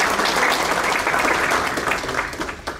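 Audience applause at a school district staff awards ceremony, a dense burst of clapping from a large crowd that stays strong, then thins and tapers toward the end.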